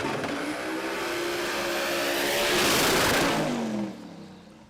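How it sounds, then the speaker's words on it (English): A drag race car engine screams at high revs at a Brisbane drag racing event, swelling loudly as it passes, then stuttering against the rev limiter before fading away. "it didn't shift and it hit the limiter twice and then he lifted"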